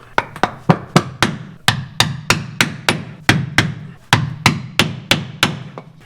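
A wooden block hammered against a seal to drive it into place on a yoke, struck in a steady run of about twenty sharp, close, ringing knocks with short pauses, no talking.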